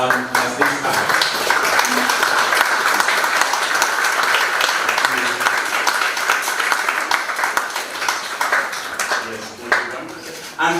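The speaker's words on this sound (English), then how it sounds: "I want to welcome everybody to applaud and join us as this time." An audience at a regional conference on Eastern Africa and the Great Lakes applauds, a steady, dense wash of many hands clapping that lasts throughout, fairly close and loud.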